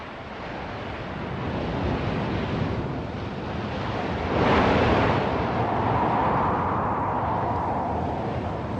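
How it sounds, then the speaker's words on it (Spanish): High waves crashing against rocks on a wild shore, a continuous loud roar of surf with a swelling surge in the middle, mixed with wind noise and no voices. "altas olas se rompían con un estruendo salvaje"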